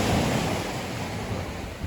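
Sea water surges and washes into a rocky coastal cave on the Îles de la Madeleine, a close, continuous hissing rush of surf with no voices.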